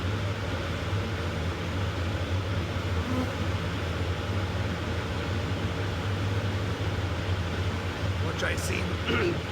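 A honeybee colony hums in a hive in late winter, a steady, close buzzing drone that fills the whole stretch, with a brief rustle near the end.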